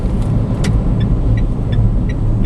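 A Peugeot iOn electric car rolls along while pulling over, with a steady, close road roar and no engine revving, holding an even level throughout.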